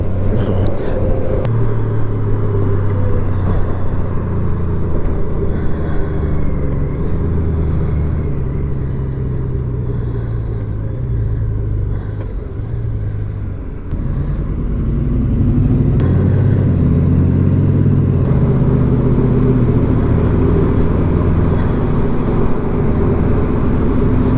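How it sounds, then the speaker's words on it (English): Motorcycle riding in cold weather alongside backed-up road traffic, a loud steady engine drone and wind rumble close by that dips briefly midway and then swells again, with no talking. "All that traffic backed up, and I was about to get in that"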